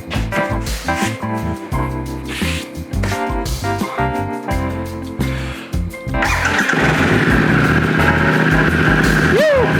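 A 2022 Harley-Davidson Pan America motorcycle after an air filter replacement: uneven choppy cranking and sputtering for several seconds, then the engine catches and settles into a loud, steady close idle with a rising squeal near the end.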